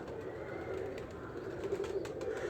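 Two pigeons coo nearby in soft, rolling low calls that repeat over a faint background hum, with no speech.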